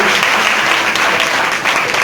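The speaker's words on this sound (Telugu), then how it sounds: "గట్టిగా చప్పట్లు కొట్టండి." A church congregation bursts into loud, sustained applause, dense clapping filling the room evenly from start to finish with no pauses.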